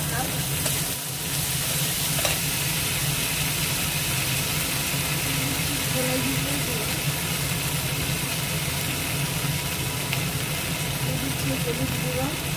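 Garlic and ginger paste fry in oil under a loud, dense, continuous sizzle that goes on throughout, with a low hum beneath and a voice speaking over it.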